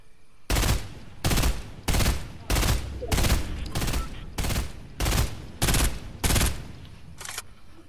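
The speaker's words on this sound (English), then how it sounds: "I'm missing all my shots on that sky base." Gunfire in a video game, ten or so loud, evenly spaced bursts of shots at roughly one per second, each sharp and crackling, with quiet gaps between.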